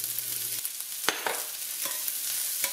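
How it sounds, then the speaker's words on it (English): Chopped onions dropped into garlic frying in a pot while making homemade habanero hot sauce, giving a steady sizzle with a few sharp stirring scrapes and clatters close by. "I think the garlic is very aromatic, so I'm going to go ahead and add my onions."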